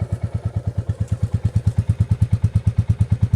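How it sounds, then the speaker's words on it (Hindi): Royal Enfield Classic 350 motorcycle, new next-generation model, idling with a steady, even thump, thump of its single-cylinder engine, close by and fairly quiet, beats running rapidly and regularly throughout with no voices. "ये जो डुक डुक डुक डुक वाली साउंड है ना,"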